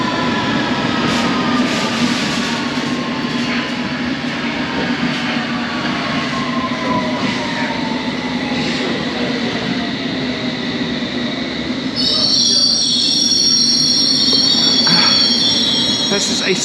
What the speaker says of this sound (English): This is a Circle Line train.